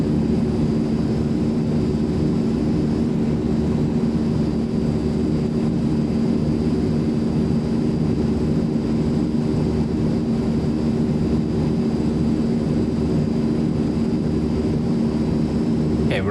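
Steady, droning turboprop engines of a C-160 transport aircraft in Microsoft Flight Simulator 2020, a continuous loud hum with a fixed pitch held throughout, no voices.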